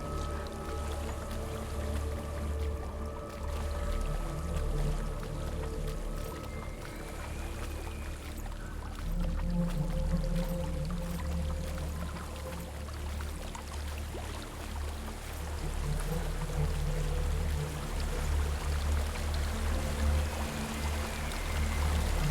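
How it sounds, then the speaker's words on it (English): A waterfall in the game Hellblade: Senua's Sacrifice, a steady rushing and pouring of water heard from a moderate distance, with soft game tones and effects drifting over it for the whole stretch. "There's a waterfall."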